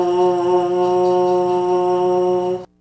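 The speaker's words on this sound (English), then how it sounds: "Start your buzz with the syllable ta and buzz through the center of your lips" Lips buzzing on a baritone mouthpiece, started with a ta syllable, produce a steady sustained buzzy tone at an even pitch for about two and a half seconds before stopping cleanly.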